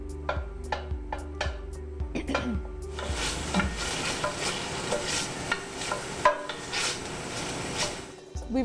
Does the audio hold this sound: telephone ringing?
no